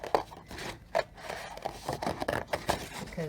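Scissors cut a seahorse shape out of paper, with close, crisp snips and scraping rustles in an irregular rhythm.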